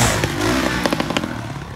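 A motorcycle pops a wheelie up to a dirt ramp on a half-groomed, rain-soaked track, its engine revving close and loud with clattering knocks over a brief burst.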